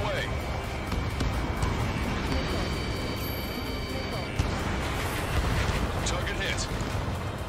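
In the Ace Combat 7 video game, a missile is fired and strikes its target on the Cape Rainy Assault mission, a steady loud roar with a brief dull impact thump partway through.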